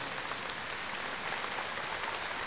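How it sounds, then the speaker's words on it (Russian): A concert audience at a memorial concert applauds steadily, with dense, even clapping that fills the whole stretch at a constant loudness. "Эти аплодисменты ему."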